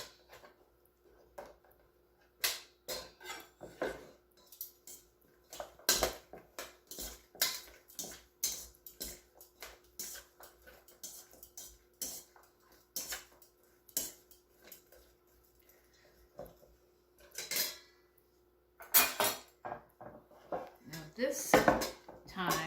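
Zucchini slices clatter back into a bowl with garlic and olive oil, giving a run of scattered dish and utensil clinks and soft taps of varying loudness, close by, with a faint steady hum underneath and no talk.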